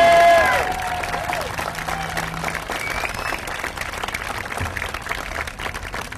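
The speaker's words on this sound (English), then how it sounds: "How about a round of applause for our band?" A crowd at a school groundbreaking ceremony applauds the band, a moderate, steady patter of clapping that trails off slowly after a brief opening bit of music.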